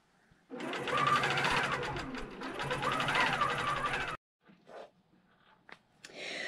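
A QCT5 Pro quilting machine sews a border, giving a steady close mechanical stitching whir for about four seconds before stopping, followed by a few soft handling clicks.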